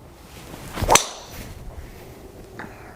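A Titleist TS3 driver head strikes a golf ball with one sharp, loud crack, then a faint whoosh as the ball flies off, with quiet outdoor ambience around it.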